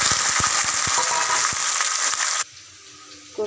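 Whole cumin seeds and bay leaves, along with cinnamon and cardamom, crackle and sizzle in hot oil in a pan, with a few sharp pops over a steady hiss that cuts off abruptly partway through, no talk heard.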